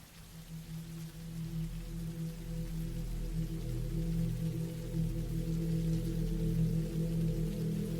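Steady rain falls as a dense, even hiss with a low rumbling bed beneath, continuous and unbroken with no voices.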